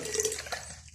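Water poured into a gold-recovery solution with foils from IC chip sockets, giving a steady close trickling splash through the whole moment.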